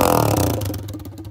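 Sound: pit bike engine revving with silencer off exhaust

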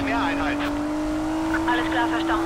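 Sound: car engine racing in Need for Speed Payback video game

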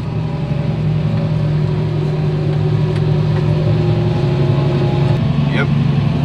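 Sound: truck driving off-road

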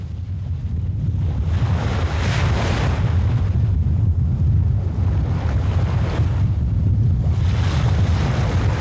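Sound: ocean waves crashing against Cape Hatteras lighthouse base

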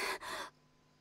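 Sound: panting in Genshin Impact video game

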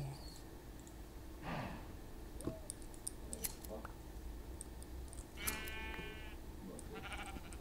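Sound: sheep bleating in Minecraft video game

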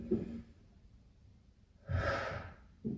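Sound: deep breathing during a torso mobility exercise

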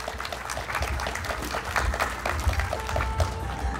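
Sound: applause for the groom at a wedding

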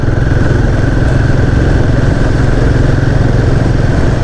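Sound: Royal Enfield Guerrilla 450 motorcycle accelerating

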